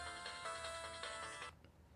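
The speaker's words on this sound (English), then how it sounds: "Phone's ringing, dude. Just answer your phone." A mobile phone ringtone plays loudly in a repeating electronic pattern, then cuts off abruptly, leaving a quiet room.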